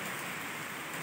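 Light rain falls steadily as a soft, even hiss over a brief moment at home near rice paddies, with no individual drops standing out and no voices.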